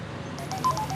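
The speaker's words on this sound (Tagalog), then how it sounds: "Nagriring ti cellphone ko." A cellphone rings with a short electronic tone pattern, repeated beeps starting partway through, set against a low background hum with no voices.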